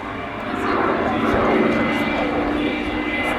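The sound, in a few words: Rolls-Royce Griffon-engined fighter aircraft flying at an air show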